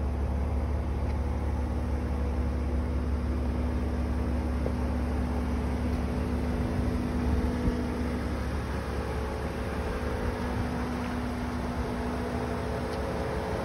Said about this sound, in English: Vehicle is running.